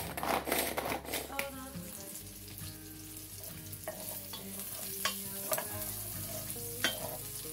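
Vegetables fry in a pan while being stirred with a steel spoon, giving a steady sizzle under repeated scraping and clinking strokes at a close distance.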